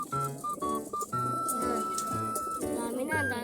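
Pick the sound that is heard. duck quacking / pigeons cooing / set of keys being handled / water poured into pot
pigeons cooing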